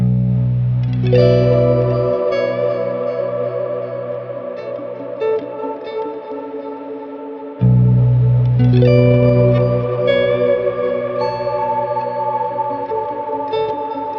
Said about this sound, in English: The distant singing that you can hear in this patch comes mostly from the combination of those filters with an acoustic simulator